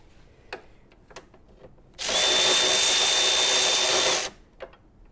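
Milwaukee M12 cordless impact driver runs in one loud, steady, high whine lasting about two seconds, preceded and followed by faint clicks and handling noises.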